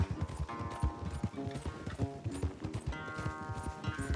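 Horse hooves clop at a gallop in Red Dead Redemption 2, a steady fast rhythm of close, fairly loud hoofbeats running with music or game sound mixed underneath.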